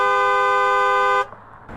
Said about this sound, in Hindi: कार की आवाज ऐसी होती है